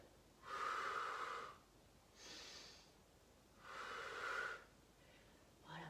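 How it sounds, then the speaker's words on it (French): Two slow, audible breath cycles during a Pilates exercise, each a long airy inhale or exhale with a quieter breath between, close to the mic with no talking. "Je respire."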